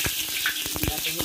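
Garlic hits hot, smoking oil in a pan with a burst of hissing sizzle and popping crackles, short and close, a voice faintly present underneath.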